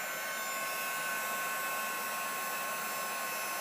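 Embossing heat tool blowing hot air over embossing powder for card making, a steady high-pitched whirring hiss like a small hair dryer, continuous and fairly faint, with no talking.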